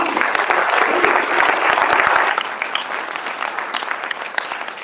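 Loud, dense applause from an audience at a fraternity chapter monument dedication, sustained clapping that fills the first half, then thins into scattered claps and light cheering.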